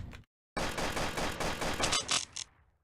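Rapid gunfire from a weapon in the video game Project Abel: a dense, loud burst of continuous shots lasting about two seconds after a brief silence, then a few separate trailing shots fading out.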